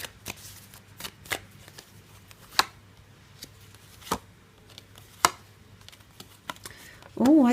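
Tarot cards shuffled and drawn from a deck, close and crisp, with sharp irregular snaps and flicks separated by pauses, and a brief voice at the end.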